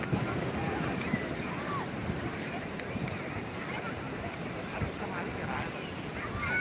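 Steady wash of ocean surf on a beach with wind buffeting the microphone, a continuous broad roar without distinct breaking waves standing out.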